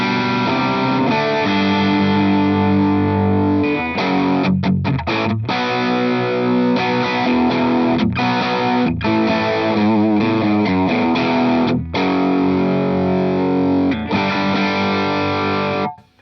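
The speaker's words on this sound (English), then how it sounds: "that's what our bass sounds like coming through this mic setup and the speaker" Loud distorted bass guitar played through a Two-notes Reload 2 loadbox into a speaker cabinet, a steady driving riff with brief gaps, picked up by a microphone, no talking.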